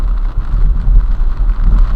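Steady rain while driving in bad weather, a constant dense wash of drops with a strong low rumble from the vehicle, loud and close with no voices.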